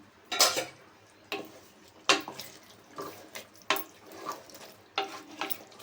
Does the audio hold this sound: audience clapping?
no